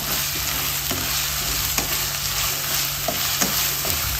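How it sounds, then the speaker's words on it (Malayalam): Ginger, green chili and garlic paste sizzles steadily in a hot pan, with a continuous close frying hiss and a few soft stirring scrapes and clicks and no talking. "1 ടേബിൾ സ്പൂൺ ഇഞ്ചി, പച്ചമുളക്, വെളുത്തുള്ളി പേസ്റ്റ് ഇട്ട് കൊടുക്കാം. എല്ലാം കൂടെ നല്ലതുപോലെ വഴറ്റിയെടുക്കാം."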